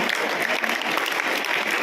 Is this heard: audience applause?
yes